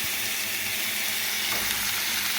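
Gobindobhog rice and moong dal frying in a hot tempering give a steady, even sizzle with a soft hiss throughout, no voices.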